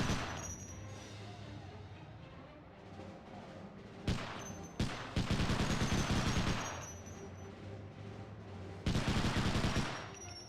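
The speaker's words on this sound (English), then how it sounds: "I'm going to man this MG." A mounted MG fires in Medal of Honor Underground, alternating between short bursts and longer sustained streams of rapid, loud shots over a low background rumble.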